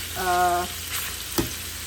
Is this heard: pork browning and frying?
yes